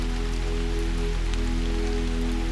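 Soft rain patters steadily on the leaves of ancient trees beneath a dense canopy, a continuous gentle hiss of drops over a constant low hum.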